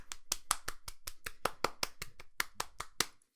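A handful of people clap in a small room, about twenty crisp, close handclaps in a loose, slightly uneven rhythm over roughly three seconds, with no voices.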